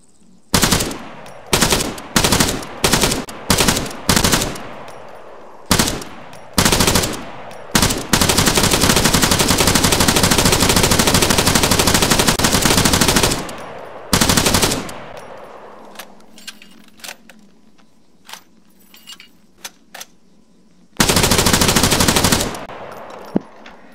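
Bursts of Negev NG7 7.62mm machine-gun fire from a video game mod, several short rattling volleys, then a long sustained stream, followed by more clipped bursts, loud and close with no talking.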